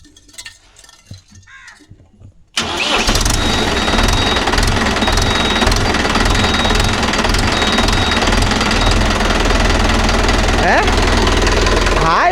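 A Mahindra Yuvo Tech Plus 585 DI tractor engine, just given an oil service, cranks after a quiet start and settles into a loud, close, steady knocking diesel chug that runs to the end.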